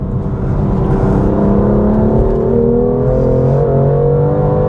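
A BMW M2 Competition's engine revs up steadily and loudly, its pitch rising as it accelerates out of corners, with no voices.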